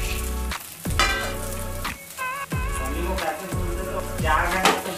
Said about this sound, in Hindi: अब फली को भुजने वाली हूँ मैं।